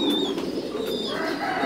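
Pigeons coo in a pigeon farm in Vietnam, soft murmuring calls over a constant dense background of flock noise and faint rustling.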